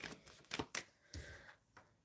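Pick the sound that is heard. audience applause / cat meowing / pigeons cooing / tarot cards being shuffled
tarot cards being shuffled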